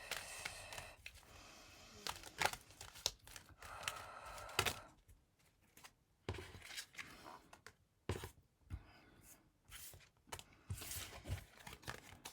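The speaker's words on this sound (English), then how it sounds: "I'm just gonna shuffle that again." Chunky tarot deck shuffled by hand in repeated riffling bursts of papery snaps, with short quiet pauses between rounds, close and fairly soft.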